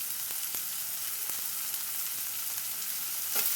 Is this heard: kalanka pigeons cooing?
no